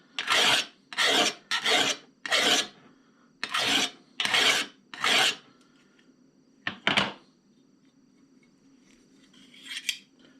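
A scissors blade being sharpened with 180 grit abrasive: seven loud, even rasping strokes in steady rhythm, a pause, one more stroke, then a faint scrape near the end, close and alone without talk.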